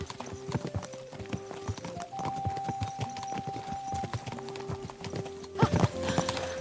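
A horse in Kingdom Come: Deliverance 2 clip-clops along in a steady close rhythm of hoof strikes, ending in a loud whinny, with a held tonal drone of game music underneath.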